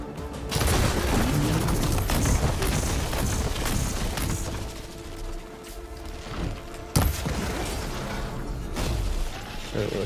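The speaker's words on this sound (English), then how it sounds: "Just survive one explosion here." Explosions and gunfire in the action video game Horizon Forbidden West, a dense, continuous barrage of booms and bursts at high loudness, with a sharp blast near the end and no talk over it.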